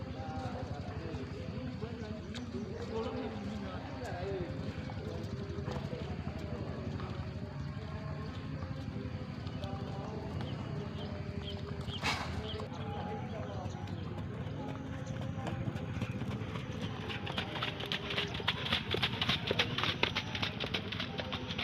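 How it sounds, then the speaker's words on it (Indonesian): Racehorses clip-clop steadily during morning training, with dozens of horses working at once. The hoofbeats form a continuous, moderately loud patter under outdoor ambience, and someone talks over them. "ada puluhan kuda yang berlatih di pagi hari ini"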